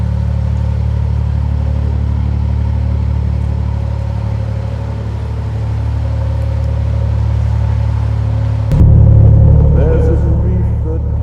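A narrowboat engine runs steadily at close range as a low droning hum, its pitch shifting slightly before a sudden louder burst of heavier knocking rumble near the end.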